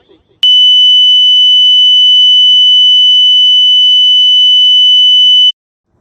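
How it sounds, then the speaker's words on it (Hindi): Steady, piercing electronic tone played from a mobile phone, presented as a sacred sound, starting abruptly and holding loud and unchanging for about five seconds before cutting off. "आइए सुनते हैं कैसी धुनें चलाते हैं ये लोग मोबाइल पे"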